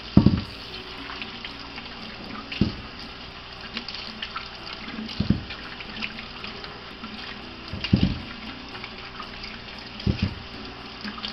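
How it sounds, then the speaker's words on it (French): Running tap water splashing as peeled potatoes are rinsed in a sink, a steady stream broken by several louder knocks and splashes as the potatoes are handled, no voices. "Je les rince comme il faut pour enlever toute la terre."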